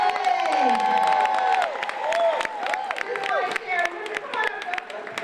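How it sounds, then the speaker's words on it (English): A sellout crowd at an annual mayor's education ball claps and cheers loudly, with whoops and scattered voices rising over dense applause that holds for several seconds. "This is a sellout crowd because we have Joseph Sikora in the building."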